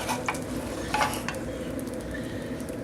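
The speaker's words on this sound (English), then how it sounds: "Got just a tiny knob of butter in this little frying pan. I'm just going to toss these almonds around" A steady, soft sizzle of almonds toasting in a little butter in a small frying pan, with a few light scrapes and taps as they are tossed around.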